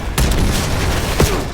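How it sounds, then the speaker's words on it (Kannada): Gunfire from the video game Call of Duty Black Ops 7: a loud burst of shots opens the clip, then dense, continuous battle noise with another sharp report near the end. "ಫೈರಿಂಗ್ ಸೌಂಡ್ ಬರ್ತಿದೆ, ಯಾರು ಕಾಣಿಸ್ತಿಲ್ಲ."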